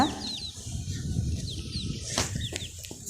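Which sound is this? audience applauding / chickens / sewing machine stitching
chickens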